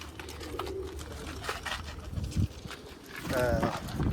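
Domestic pigeons coo softly on a rooftop in Amritsar's Boriyan Wala Bazaar, low burbling calls rising amid a noisy background, with people talking nearby.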